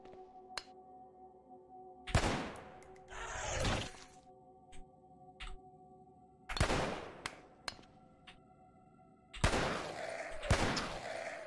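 Gunfire in the video game Cataclysm DDA: three sharp bursts of shots spaced a few seconds apart, each a loud crack with a short tail, plus a few faint clicks between them.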